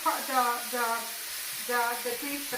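Peppers and onions sizzle in a pan with a steady bright hiss, while a voice hums or talks over the cooking throughout.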